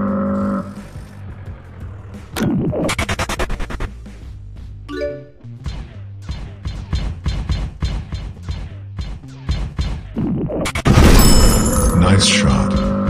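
Rapid shooting in an Android scorpion robot car transformation game, with a fast burst of repeated shots, a run of evenly spaced blasts and a louder explosive burst near the end over game music, with brief voice callouts.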